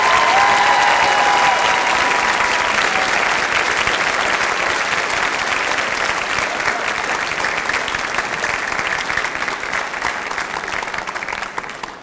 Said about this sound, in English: give our boosters an amazing round of applause